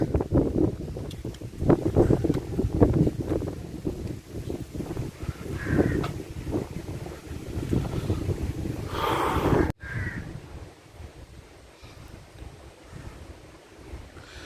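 Wind gusts roar across the microphone over distant surf at Neyyar Dam, Thiruvananthapuram, with a crow cawing now and then; no one speaks.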